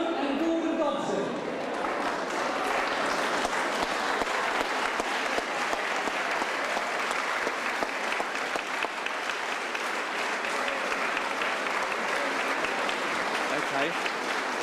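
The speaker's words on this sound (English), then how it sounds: "Get a good applause." Audience at a school reunion applauding, sustained thick clapping from a roomful of people that starts abruptly and stays loud and even, with faint talk mixed in underneath.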